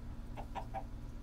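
Three quick, close clucks from a Minecraft chicken in a short burst over a low, steady hum of game background.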